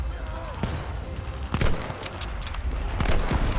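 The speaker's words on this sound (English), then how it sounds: "Now we're getting shot on by friendly fire" Call of Duty: Vanguard gunfire crackles in quick scattered shots and short bursts, close and fairly loud, with combat noise around it and a voice talking.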